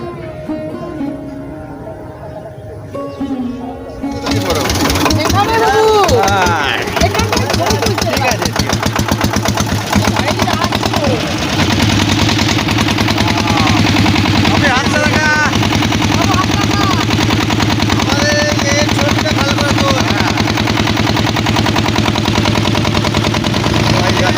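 A motor boat's engine rumbles loud and steady as the boat crosses the brimming Mundeshwari river, kicking in after a quieter opening and then droning on continuously with a knocking pulse while voices carry faintly underneath.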